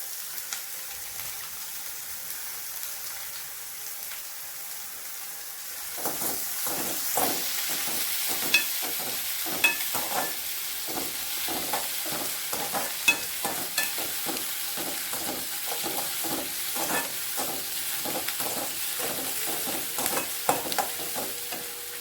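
Onions sauté with salt in a pan, a low sizzle that gains a brisk, regular run of spatula scrapes and taps after a few seconds, continuing close and steady with no talking.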